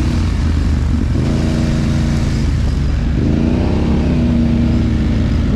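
Quad bike with an MT-07 engine swap revving on a forest enduro ride, loud and close, engine pitch rising and falling with throttle blips, steady roar throughout.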